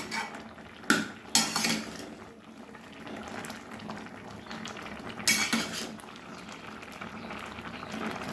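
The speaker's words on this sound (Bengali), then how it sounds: "ঢাকনা খুলে আরেকবার নেড়ে দেবো বন্ধুরা" A lid comes off a pot of egg and soybean khichdi with sharp metallic clanks, then a spoon scrapes and stirs through the bubbling rice, with another pair of clatters later over a constant low simmer.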